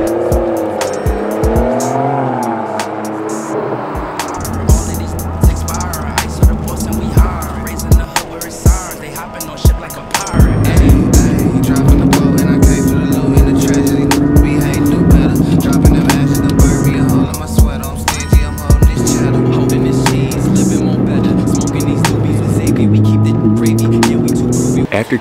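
A BMW E90 sedan winding through the tight curves of the Tail of the Dragon mountain road on the North Carolina–Tennessee border, its engine note rising and falling through gear changes, with faint tire noise and a voice speaking over it.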